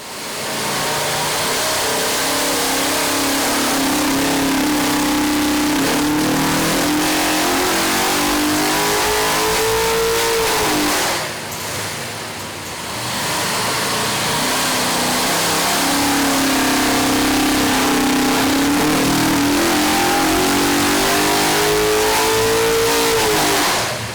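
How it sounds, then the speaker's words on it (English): A big block 632 engine runs on a dyno, roaring loud and close through long sweeping revs that climb in pitch, drop back briefly near the middle, then climb again in a second sustained pull. "On the dyno, we ran the big 632 both on race gas and E85."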